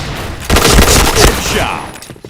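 Rapid automatic gunfire in an online shooter game, a loud burst of dense shots lasting about a second and then tapering off, with a voice briefly heard in the background.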